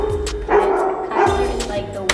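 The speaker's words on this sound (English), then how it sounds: "That dog, that goddamn dog is back." A neighbor's dog barks repeatedly, close and loud, in several spaced bursts with a few higher yips.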